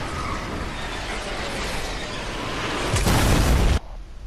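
Rocket launcher explosion in Fortnite: a steady rumble of gameplay builds to a loud, near burst that lasts under a second before cutting off abruptly.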